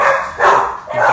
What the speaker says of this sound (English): The dog just barked.